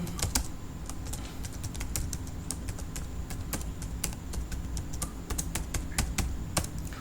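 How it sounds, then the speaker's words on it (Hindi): Fingers type steadily on a computer keyboard, giving a continuous close patter of quick key clicks with no pauses and no talk. "मैं यहाँ पर टाइप करता हूँ"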